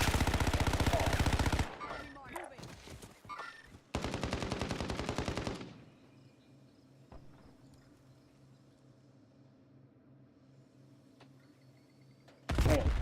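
Enemy gunfire in a shooter video game: loud rapid automatic bursts crackle for a couple of seconds, break off, return in a second long burst, then start up again at the end after a quieter stretch.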